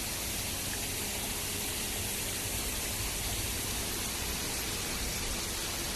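A small waterfall feature at a church in Toa Payoh pours steadily, a dense, even rush of falling water that holds at the same level throughout with no other sounds.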